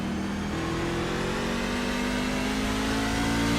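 A racing truck engine screams around Martinsville in a sim racing game, a steady high-revving drone that rises slightly in pitch and holds loud and close throughout, with no voices over it.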